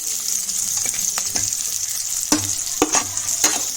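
Onions and tomato fry in a pan with a steady, loud sizzle, broken by several sharp scraping stir strokes of a spatula.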